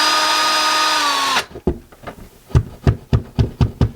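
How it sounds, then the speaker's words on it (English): A power drill drives a screw into a wall stud for a floating shelf, its high whine running steadily and then cutting out, followed by a series of sharp, evenly spaced knocks close by. "Now we're going to put the screw right here, so I want to make sure that that's a stud there."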